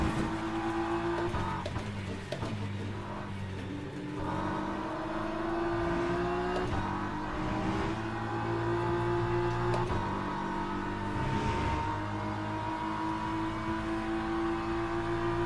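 GT3 race car engines in the racing game Le Mans Ultimate, heard as sustained, droning, pitched engine tones rising and falling with gear changes and revs, loud and continuous, with several cars blending together and no talking.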